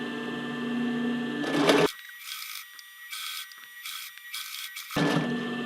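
A sewing machine stitches the hem of a tank top, faking a cover stitch by sewing about half an inch over the first row; the motor runs in a steady whir that drops to short bursts, then resumes fully near the end.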